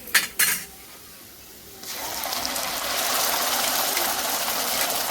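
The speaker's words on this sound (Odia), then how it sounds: "ଏବେ ମୁଁ ମସଲା ପାକୁ ପକାଉଛି।" Ground spices tipped into a hot pan of cooked onions, with a couple of sharp metal clatters at the start, then a steady rushing sizzle that rises and holds close up.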